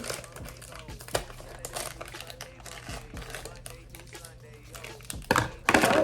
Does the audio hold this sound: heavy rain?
no